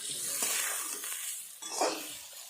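Ground spice paste, including cumin, fries in a pan while a spoon stirs it, giving a soft steady sizzle broken by faint scraping strokes of the spoon against the metal.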